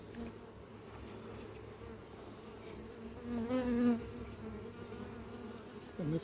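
Bees buzz around an open beehive, a dense, steady drone close by that swells briefly as a single bee passes near.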